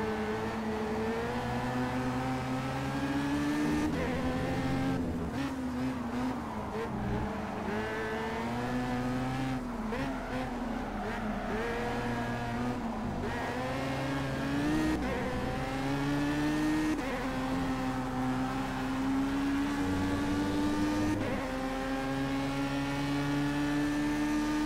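Race cars in a sim racing game roar around a track in Spain, engines droning steadily through the gears and rising and falling as they exit a corner and slipstream along the straight, loud and continuous.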